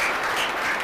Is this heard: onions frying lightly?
no